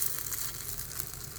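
Vegetable batter balls fry in oil in a guntha pongalu pan, giving a steady, close sizzle with a soft crackle that stays even throughout, with no talk.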